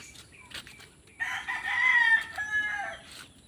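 A hen calls from nearby, a drawn-out clucking cackle that rises midway and holds for a couple of seconds over a quiet background.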